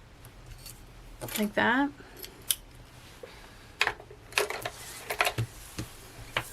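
Scissors cut paper tabs into rectangles in a quiet room, producing a few crisp snips and rustles spread out over the stretch. A person speaks briefly partway through.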